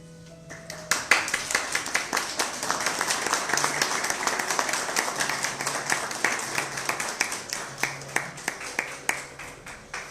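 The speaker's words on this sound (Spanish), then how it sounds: "Les agradecemos por los aplausos." An audience at a student-organized history event on the Spanish Civil War applauds with steady, dense clapping that swells and holds for several seconds, then thins to scattered claps near the end.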